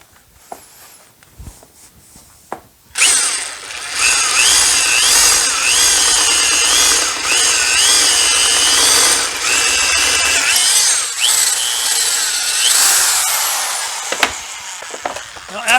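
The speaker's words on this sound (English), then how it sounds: "then we're going to drill our 3/4 inch hole for the finger to fit." Power drill boring a 3/4 inch hole through the metal drum of a washing machine, a loud sustained whine with wavering pitch lasting about ten seconds after a few brief clicks, ending with short knocks.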